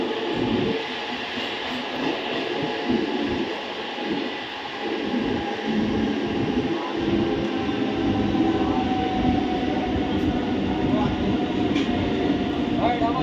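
Howrah–Midnapore local train at a station, a steady rumble of the carriages with rail noise rising and building over the stretch, heard from inside the train, and some voices faint in the background.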